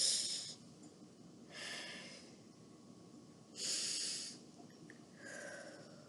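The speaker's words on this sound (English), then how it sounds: "And we're going to breathe in." Slow, deep breaths drawn in through the nose, four soft airy inhalations spaced a couple of seconds apart, close and quiet with no talking.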